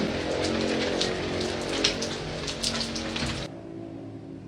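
Heavy rain pours steadily in a dense, close hiss with scattered splashes and drips, then abruptly drops away near the end.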